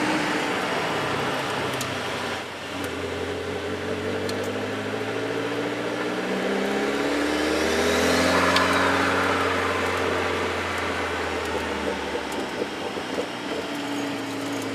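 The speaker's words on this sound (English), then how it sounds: "It's like driving a real sports car with comfort, so to say." Car cruising on a Swedish road, heard from inside the cabin as a steady engine and road drone with slowly shifting tones, rising and falling through the run with no talk over it.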